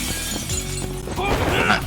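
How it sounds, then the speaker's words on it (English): Glass shatters in the PS5 video game Judgment, a brief bright crash with tinkling fragments rising out of the game's ongoing sounds and music, fairly loud. "Ah, we broke the glass."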